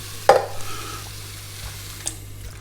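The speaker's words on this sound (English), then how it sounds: "Give them a little stir." A spoon gives one short scrape through a pan of beef meatballs and cheap tinned tomatoes, then small faint clinks over a low steady hum and a soft sizzle.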